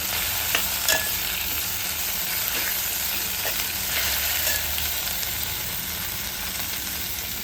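Onion-tomato masala with garlic, three green chillies and coriander sautéing in a pan, a steady broadband sizzle with occasional soft stirring scrapes, close and continuous with no voices.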